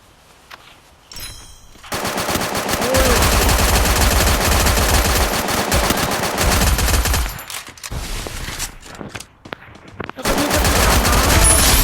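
Bursts of automatic gunfire from the mobile shooter game Free Fire: loud, dense rapid firing that rolls on for several seconds, breaks off briefly, then starts up again, with no voice heard over it.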